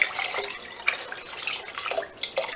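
Cold tap water runs steadily into a pot, a broad continuous splashing rush with small surges and dips in flow, heard close and alone.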